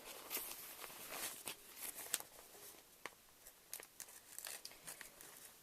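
Scissors cutting through a sheet of local newspaper, with soft crinkling and rustling plus a series of sharp snips, quiet and close, with no one speaking.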